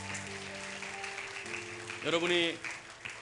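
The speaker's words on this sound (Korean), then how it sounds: "하나님께 영광의 박수 올려드리겠습니다." A church congregation applauds during a New Year's Eve service, with a steady wash of clapping under a leader's voice and a swell of cheering and louder clapping partway through.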